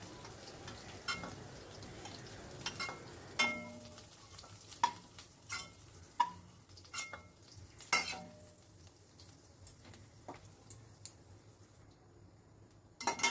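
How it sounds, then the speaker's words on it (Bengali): Potatoes frying in oil in a kadai over a high flame, stirred constantly: a low steady sizzle broken by sharp scraping clinks and taps from the spatula, close and fairly quiet, with no talking. "এবার আলুটাকে আমি ফ্রাই করে নিচ্ছি। অনবরত নাড়াচাড়া করে হাই ফ্লেমেই রেখেছি।"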